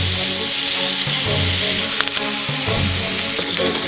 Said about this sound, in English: get your butter in the pan and start basting